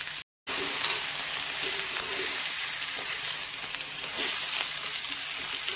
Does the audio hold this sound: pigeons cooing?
no